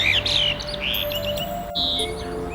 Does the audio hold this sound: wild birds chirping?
yes